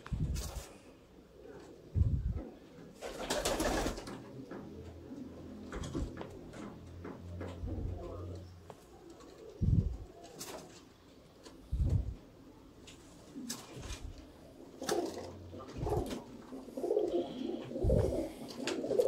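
Pigeons kept in Sialkot, zeeray and sharmilay breeds, cooing in low soft bursts with intermittent thumps and rustles around a coop, no one speaking.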